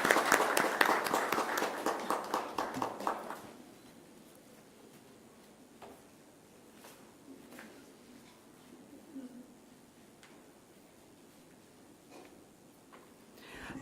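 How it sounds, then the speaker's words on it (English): An audience at a design institute's induction event applauds briskly for a few seconds before the clapping fades into a quiet room with occasional soft knocks and shuffles. "Can we have a huge round of applause,"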